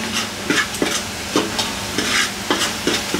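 Biryani masala of coriander and cumin powder sizzles in hot oil while a spoon stirs it in quick, regular scrapes, close and steady with no voices.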